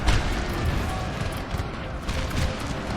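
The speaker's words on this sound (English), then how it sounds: "See if we can get a volley off." Musket fire from massed infantry in the Total War: Napoleon video game rolls out as a dense, crackling volley, a sustained rumble of overlapping shots at moderate loudness.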